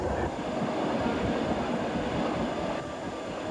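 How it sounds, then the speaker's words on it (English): Passenger train departing Moscow on a long journey toward Cherepovets, Russia, in 1988, a steady low rumble and hiss of the moving carriage heard from inside, faint and continuous. "We've just started the first hour of a 10-hour train ride"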